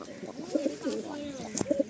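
A pair of pigeons coos as they are released, with soft repeated throaty coos close by, several short calls in a brief burst.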